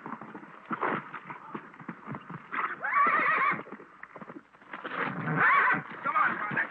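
A horse whinnies loudly in repeated bursts, with hooves clip-clopping close by in a rough western setting; a voice is heard briefly among the sounds.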